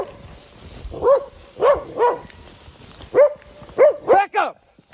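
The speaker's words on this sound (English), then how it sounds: "We've encountered our first dog of Grahovo." A dog in the town of Grahovo barks repeatedly, about eight sharp, yelping barks in uneven bursts, close and loud.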